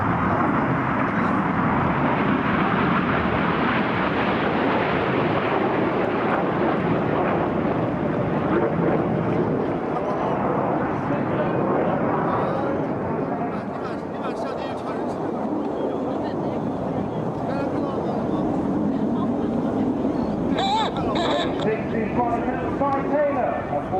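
Red Arrows jets perform a flying display at the Sunderland Air Show, a sustained loud roar of jet engines passing overhead with wind buffeting, under an announcer's commentary over the public address.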